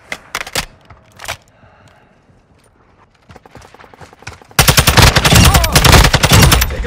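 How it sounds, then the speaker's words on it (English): Gunfire in Call of Duty: Modern Warfare II team deathmatch on PS5: a few sharp separate shots early, a quieter lull, then a loud sustained automatic burst of rapid rounds filling the final seconds. "Taking effective fire."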